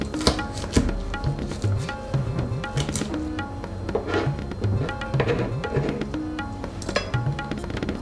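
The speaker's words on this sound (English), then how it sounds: "I just slice it in half, slice it again, and just make it in 4." Knife slicing okra on a cutting board for Fiji-style Indian bhindi fry, a rapid run of crisp, close chopping taps in an uneven rhythm, with no talking.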